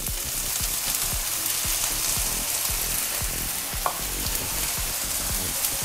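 Tomato puree for paneer pepper masala sizzling and simmering in a pan with capsicum, a dense steady frying hiss broken by regular stirring scrapes, close and alone without talk.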